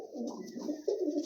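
Pigeons kept in a loft coo in soft, repeated throaty phrases close by, with several overlapping calls and no talking.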